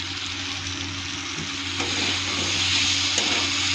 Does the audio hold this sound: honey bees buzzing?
no